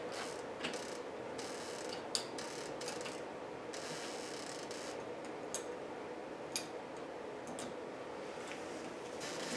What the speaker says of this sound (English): then we'll just go back to the screwdriver to tighten them up